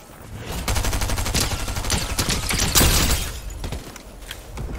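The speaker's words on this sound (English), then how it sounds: "Somebody shooting." Rapid gunfire in a battle-royale video game, a dense burst of repeated shots running for several seconds at moderate distance, peaking near the middle and tapering off, with no talk over it.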